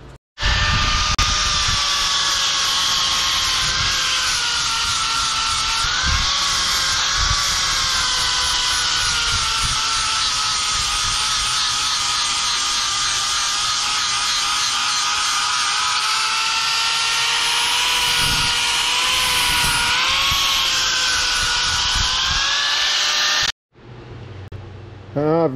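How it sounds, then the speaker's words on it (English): An angle grinder puts an edge on a metal turbine blade in a DIY build, a loud, steady whine with wavering pitch that runs for over twenty seconds before stopping abruptly. "I'm gonna go and grab the grinder and put an edge on it."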